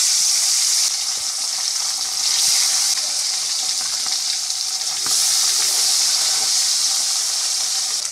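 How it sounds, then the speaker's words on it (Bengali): Pieces of bhetki fish fry in hot oil, a steady bright sizzle that swells and eases over several seconds, close and alone with no talk. "আমি কিন্তু এইভাবে সব মাছগুলো আগে ভেজে নেব।"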